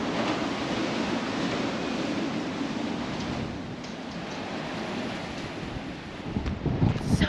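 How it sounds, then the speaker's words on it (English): Strong tundra wind in Alaska roars steadily into the microphone, a dense continuous rush with gusts and a few bumps near the end. "So windy."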